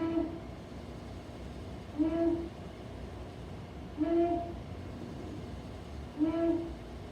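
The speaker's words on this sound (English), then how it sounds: "Long-eared owl." Long-eared owl calling, four low, evenly spaced hoots about two seconds apart, clear and moderately loud over a faint background hiss.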